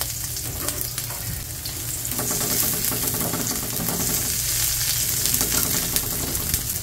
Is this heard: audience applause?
no